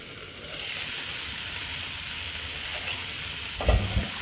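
Garlic, onion, green chilli and tomato fry in a pan with a steady, close sizzle that runs throughout, ending in a brief clatter of stirring.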